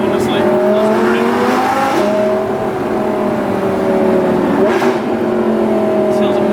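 An Audi R8 V10 plus engine heard from inside while driving, a loud, continuous drone whose pitch rises and falls slightly through the whole stretch.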